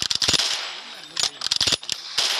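Rapid gunfire in a shooting video game: several loud, sharp bursts of shots in quick succession, separated by short pauses.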